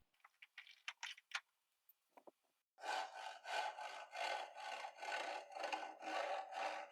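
Wooden panels that were glued up get trimmed to length with a hand saw: a few scattered knocks and scrapes of handling come first, then a close, steady run of about ten rhythmic back-and-forth saw strokes.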